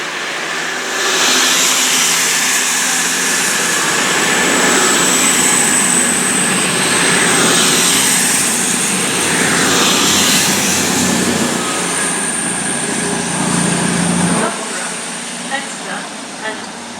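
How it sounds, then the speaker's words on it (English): A Class 221 Voyager diesel train on a CrossCountry service to Edinburgh via Leeds pulls away from Chesterfield station with a loud, sustained engine roar and a high whine. The roar ends abruptly near the end. "Off goes the 221 cross-country Voyager service"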